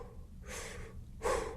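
Two heavy breaths drawn through a scuba regulator underwater on a first dive, each a broad hissing rush, the second louder and closer, with a quiet pause between.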